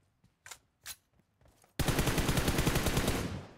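Gunfire in the mobile battle royale game PUBG Mobile on the Nusa map: a few scattered single shots, then a sudden loud, sustained burst of rapid automatic fire that fades slightly toward the end.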